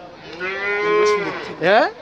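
Cattle at a livestock market near Ishwardi, Pabna: one cow gives a long, loud close moo, followed by a second rising moo, with a brief spoken word.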